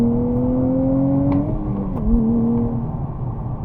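A 2023 Nissan Z's turbocharged engine pulls hard from inside the car, a steady rising drone that dips at a gear change and climbs again, loud and close without talking.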